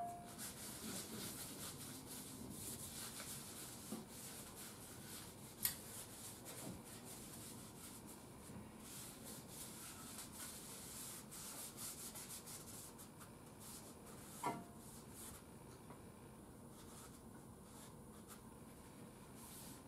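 Lacquer thinner being wiped and rubbed across the front of a Radiola 20 radio, a soft, steady scrubbing texture that runs throughout, with a couple of sharp taps standing out.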